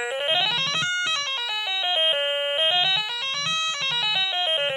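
Buzzy electronic synth notes from a first-generation Stylophone S1 on its third effect step up and down in quick melodic runs, bright and harmonic-rich, playing alone with a steady, fairly loud tone.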